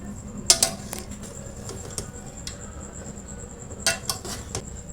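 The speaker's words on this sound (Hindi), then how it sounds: "मैं आपको डिश आउट करके दिखाती हूँ" Chicken biryani being served out of a pot, with a few sharp metallic clinks of a spoon against the pot near the start and again later, over a quiet, steady kitchen background.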